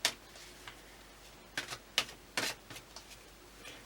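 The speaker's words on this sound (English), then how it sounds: "I'm going to shuffle again." Tarot cards being shuffled by hand, a handful of soft, brief riffling and tapping bursts spaced irregularly over a quiet background, close and faint, with no voice.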